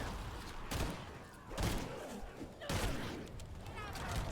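Bursts of gunfire in a free-to-play shooter game come in several rapid volleys separated by brief pauses, dense and moderately loud over a continuous noisy background.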